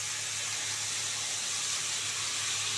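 A blender-made paste fries in a pan for an egg and onion-stalk dish, giving a steady, even hiss that holds close and unbroken throughout with no voices.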